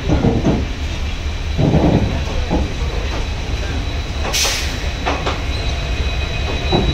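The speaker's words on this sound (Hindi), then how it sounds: "तो हम लोग पहुंच गए हैं दिल्ली सराय रोहिला रेलवे स्टेशन" A train moves through Delhi Sarai Rohilla railway station, with a steady rolling rumble, a few clunks and a brief high squeal near the middle, heard close over station noise.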